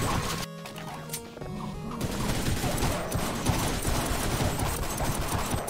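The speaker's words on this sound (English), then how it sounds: "I got a fully automatic Beretta" Rapid fully automatic Beretta pistol fire in the co-op shooter Sven Co-op, a dense, loud, continuous burst of crackling shots that starts after a brief quiet gap and runs steadily to the end amid chaotic game noise.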